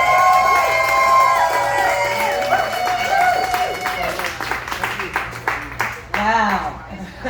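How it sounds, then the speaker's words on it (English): Crowd at a campaign fundraiser concert applauding and cheering with whoops, dense clapping that gradually thins and trails off, with voices mixed in. "Everybody, please, a round of applause for Kimberly Overman."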